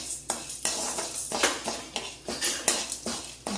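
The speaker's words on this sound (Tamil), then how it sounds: "கடலைப்பருப்பு பாதி வறுந்துட்டு இப்போ இதுலேயே உளுத்தம்பருப்பு போடுறேன்." Chana dal and urad dal dry-roasting in a pan rattle and scrape under repeated utensil strokes, sounding as rhythmic metallic clinks and stirring bursts at close range with no voice.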